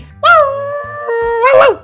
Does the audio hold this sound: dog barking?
yes